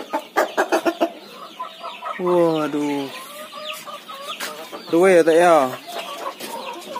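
Red Arab rooster and chickens cluck in a farm yard, with two clear harmonic calls standing out among repeated short clucks and other birds, while a person speaks briefly nearby.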